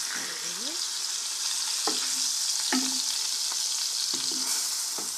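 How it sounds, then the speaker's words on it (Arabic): Onions fry in a covered pot over low heat for an Algerian Annaba-style maadnousia tajine, a steady close sizzle broken by a few light clinks and stirring sounds. "البصل تاعنا يتقلى مليح مليح"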